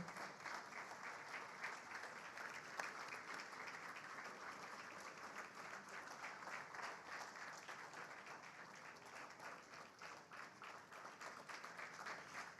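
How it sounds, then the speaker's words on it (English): Sustained standing ovation at an anniversary banquet and award ceremony, steady dense clapping from a large crowd continuing at even loudness throughout with no letup. "And the Godfather, please, a standing ovation."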